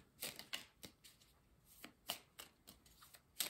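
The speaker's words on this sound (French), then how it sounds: "je vais prendre 3 petites cartes du coaching de Charlie" Coaching tarot cards shuffled and drawn by hand: quick, soft riffling and sliding bursts of card stock, close but faint, arriving in uneven clusters with short pauses, no talking.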